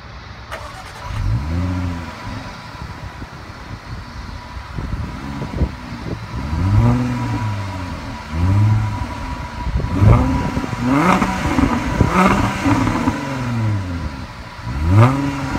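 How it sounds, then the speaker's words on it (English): A 2016 Jaguar XJL engine cranks and starts, then revs in repeated rising and falling bursts, loud and close, with no talk. "To start the engine, simply push your foot down the brake and press the start button located right here."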